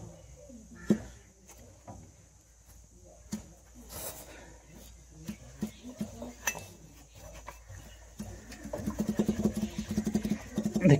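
A Suzuki Cultus car engine idles with an irregular mechanical rattle and clatter from a faulty thrust bearing, growing louder and busier toward the end.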